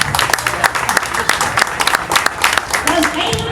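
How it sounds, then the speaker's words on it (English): At a re-election campaign announcement, a small crowd claps in scattered, distinct sharp claps, close and uneven, with speech running over the clapping. "Give them a round of applause."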